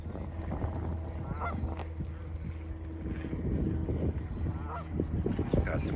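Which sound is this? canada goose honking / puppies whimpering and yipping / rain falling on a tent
canada goose honking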